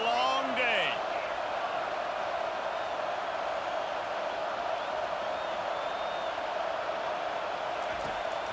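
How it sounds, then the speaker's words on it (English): Stadium crowd in College Football 25 during an Ohio State Buckeyes versus Wisconsin Badgers game, a steady, dense roar holding at even loudness throughout, with a brief whistle-like sweep near the start. "This crowd, full throat, splitting the eardrums and letting them know it's going to be a long day."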